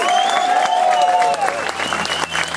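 Punk concert crowd applauding the band, clapping and cheering in a live club with sustained tones from the stage ringing over the crowd.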